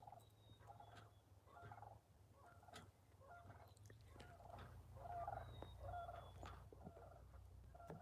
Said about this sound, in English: some kind of bird. I don't know if that's a dove.